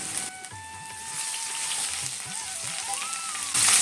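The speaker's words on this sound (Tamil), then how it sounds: "இது எல்லாத்தையும் சேர்த்து நல்லா வதக்கிக்கலாம்" Crushed ginger, garlic and halved green chili sizzle steadily in hot oil in a pan for a tomato rice premix, a close, constant frying hiss that swells briefly near the end.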